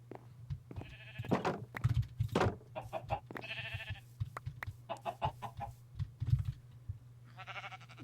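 Minecraft chickens clucking and bleating-like in a game, many short repeated calls overlapping in quick irregular bursts over a steady low hum, fairly close and busy.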